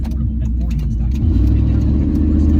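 A car cruises along a highway, its engine a loud, steady low rumble that swells slightly partway through.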